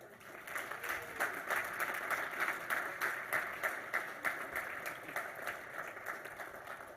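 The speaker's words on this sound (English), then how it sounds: "A round of applause for the winner of this year's President's Cup" An audience at a college athletics hall of fame ceremony claps steadily for several seconds, a dense and moderately loud round of applause with no voices above it.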